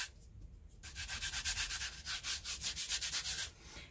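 Brisk, steady back-and-forth rubbing strokes of waxes being mixed together, close and quiet, starting after a brief near-silent moment and running evenly, no voices.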